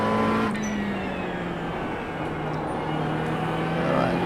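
A McLaren 720S GT3 race car engine drones steadily at high revs in the iRacing sim at The Bend circuit, with a continuous loud tone that dips slightly near full throttle and is heard alone.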